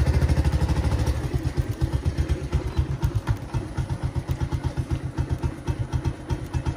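A motorcycle engine runs with a close, loud, rhythmic pulsing thump that gradually slows, as though idling or rolling at low speed, and no one speaks.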